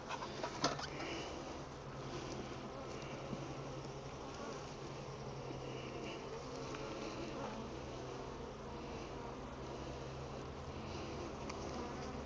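Bees hum in a steady, dense drone around an opened hive, a continuous low buzz with a few faint clicks and distant bird calls mixed in.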